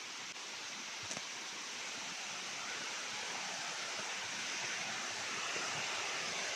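Balete Falls waterfall in Amadeo, Cavite, a steady broadband rushing roar of falling water, even and continuous at moderate distance, with no voices.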